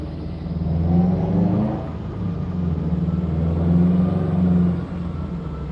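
A car engine revs up and down in steady swells, rising twice to a louder peak, recorded up close while the engine's mass airflow sensor is being logged.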